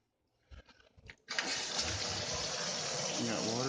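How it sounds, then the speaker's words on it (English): Water rushes steadily from a pipe after a SharkBite valve replacement, a loud continuous gush that starts abruptly after a few brief knocks and handling sounds. "We got water coming out now."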